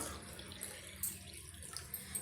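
Water poured into a vessel for making tulsi tea, a brief steady splashing trickle, close and fairly quiet, no talking.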